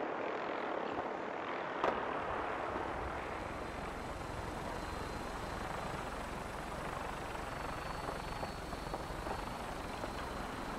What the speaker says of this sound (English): those chopper are still circling around